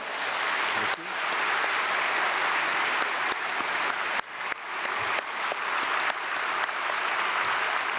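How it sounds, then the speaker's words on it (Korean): Sustained applause from a large church congregation during a Sunday worship service, steady and loud throughout with dense clapping and no voices standing out. "우리 아폰테 학장님 박수로 축복하겠습니다"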